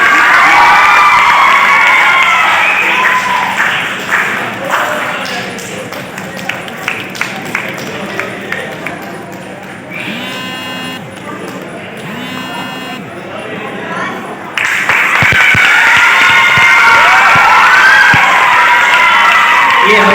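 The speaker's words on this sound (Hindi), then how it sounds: "आप लोग ताली से इसका स्वागत करें" An audience at the 8th Darbhanga International Film Festival applauds and cheers in a loud, dense, sustained burst of crowd noise. It briefly thins in the middle before surging again.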